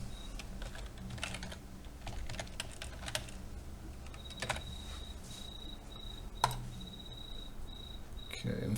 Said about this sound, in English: we'll type this in